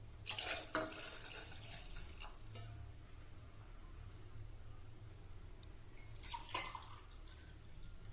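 Water poured into a cooking pot while making egg biryani, a quiet splashing trickle with brief louder bursts near the start and again toward the end, no voices.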